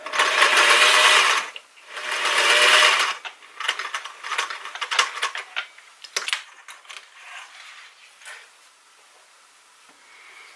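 A sewing machine stitches a seam on fabric in two loud steady bursts, then continues with shorter irregular runs and mechanical clicks that fade lower toward the end, with no talking.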